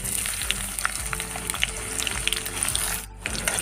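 Chopped onions hit hot oil in a pan for a fish dish and sizzle loudly and steadily, with a brief dip near the end, no voices.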